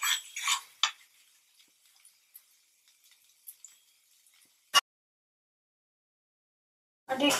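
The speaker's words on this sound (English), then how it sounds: "I'm giving it a nice stir" Maggi noodles are stirred in a pan with sparse metallic clinks and light scrapes, a few sharp taps standing out between quiet gaps.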